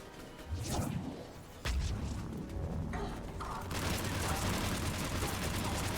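A grenade blast in the Mass Effect LE3 video game lands as a sudden loud burst, then a dense roar of combat noise and gunfire rolls on, with voices talking over the mix.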